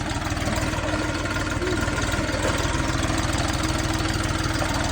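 A diesel engine on an Orion 244 tractor fitted with an Indian rotary tiller idles steadily and close by, giving a continuous low rumble with a faint knocking pulse that holds for the whole stretch, with no talk over it.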